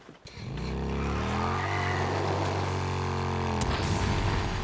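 Motorcycle riding in the video game Days Gone: the engine fires up and settles into a steady, loud, close drone that holds for several seconds, with a brief shift near the end.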